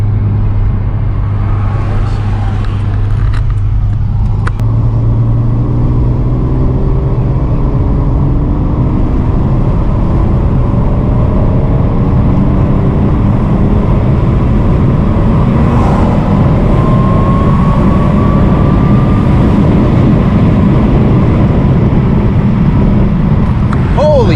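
A Mercedes C32 AMG running on E85 accelerates hard through third gear. The engine roars loudly and its pitch sweeps upward over a long run, with a faint voice in the background.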